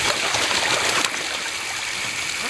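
Steady rushing hiss of water spraying from a garden hose set up as a shower for birds outdoors in near-freezing weather, continuous and fairly loud throughout.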